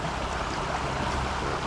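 A stream washes along in a steady, broadband rush of flowing water, close and continuous, with no other sounds.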